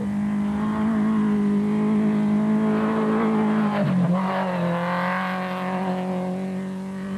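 A BAT buggy rally race car in Class B at the Limpopo 400 drives steadily with a loud, continuous engine drone, its pitch briefly dipping and shifting as if changing gear before settling again.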